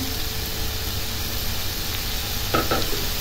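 Green beans stir-frying with seasoning in a pan, a steady close sizzle and hiss throughout with a couple of brief scraping stirs near the end.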